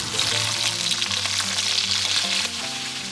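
Sea bass fillets pan-frying in a hot pan, a loud continuous sizzle with crackling throughout, no voices.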